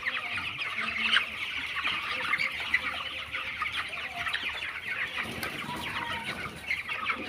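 Broiler chickens fill a poultry shed with continuous overlapping clucks and soft chatter, a dense flock sound heard close, with occasional louder calls rising above the steady murmur.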